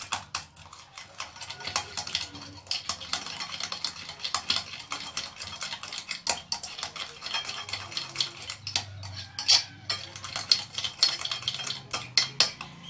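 Homemade lip balm mixture being whisked by hand in a container: quick, steady clicking and scraping strokes that run close and continuous throughout, with no talking.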